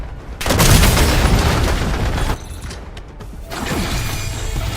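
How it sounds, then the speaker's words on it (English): A flashbang grenade bursts during a Call of Duty Black Ops 7 match: a loud, sharp blast with a long ringing wash, a brief dip, then a second surge of noisy rumble, with no talk. "Flashbang."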